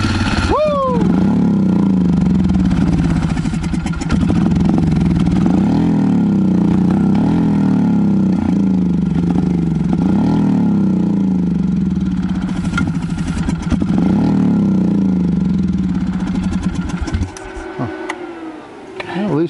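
A Beta Xtrainer dirt bike run on starting fluid idles with a steady buzzing two-stroke rasp and repeated sharp revs rising and falling, then sputters near the end, with people talking over it.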